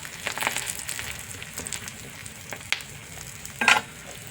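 An omelette of fish eggs and boiled eggs fries quietly in a pan, giving a soft, steady sizzle with scattered crackles and a brief louder spatter near the end.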